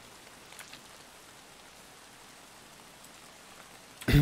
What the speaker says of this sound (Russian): Ну да, дождь идет.